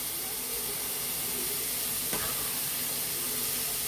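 Spice paste added to a pan of frying pointed gourd sizzles in a steady, loud hiss of oil, with a brief sharper crackle and spatter midway as the paste hits the hot pan.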